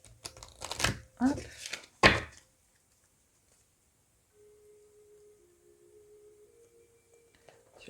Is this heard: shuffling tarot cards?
yes